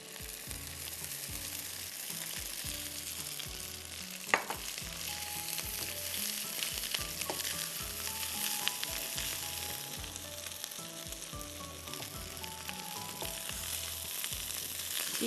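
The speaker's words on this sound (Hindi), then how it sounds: "इसको हम थोड़ा सा फ्राई करेंगे जब तक के गार्लिक का कलर चेंज का खुशबू आती है।" Garlic frying in a pan, a continuous sizzle with crackles throughout and one sharp clink near the middle, all at a fairly soft level.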